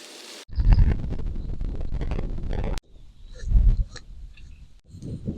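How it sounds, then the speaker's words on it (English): Wind gusting outdoors at a campsite on a misty day, rushing and buffeting the microphone in loud bursts broken by brief quieter gaps. "It's still windy."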